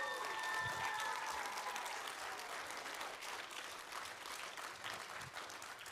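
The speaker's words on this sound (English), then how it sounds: "So can we just give a huge round of applause to all of our workshop leaders?" An audience at a grade 4 school theatre festival applauds the workshop leaders, giving a dense, even wash of clapping that holds steady throughout, fairly soft and slightly distant.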